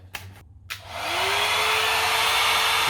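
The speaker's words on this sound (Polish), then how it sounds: "Lokówko suszarka, tak?" A curling hair dryer starts up after a few faint knocks and handling sounds, then runs with a steady, loud airy whoosh and a constant motor hum that holds to the end.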